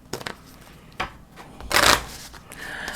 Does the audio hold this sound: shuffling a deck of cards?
yes